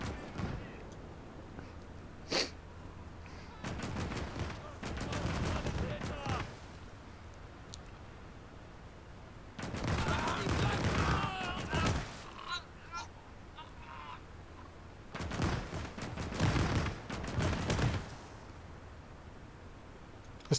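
Machine gun emplacements fire in bursts during a Gates of Hell Soviet campaign battle, clattering through several long, loud stretches separated by quieter gaps with a single sharp shot near the start.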